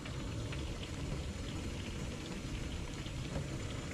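Steady rain falls outside an RV parked in St. George, Utah, a dense, even hiss with soft patter and a low rumble underneath, continuous and fairly quiet with no voices.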